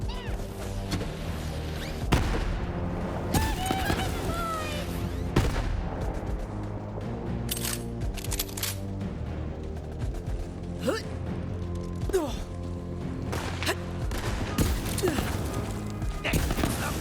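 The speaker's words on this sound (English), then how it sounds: "I do love a good artillery strike" Artillery strike gunfire in Borderlands 3 hammers in as repeated heavy booms and cracks, layered over a dense, continuous battle din with music for the whole stretch.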